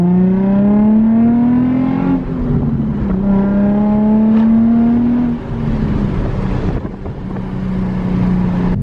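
A Nissan 350Z engine fitted with new test pipes revs loudly and steadily, its pitch climbing, dipping and climbing again across several pulls, close to the microphone with wind noise and no talking.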